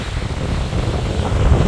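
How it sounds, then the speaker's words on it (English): Wind buffets the microphone at a hotel in Cancun in a low, steady rumble, with a rushing, surf-like wash underneath for a brief moment. "it's a little windy but see there's the cabana for the massages and it is windy today"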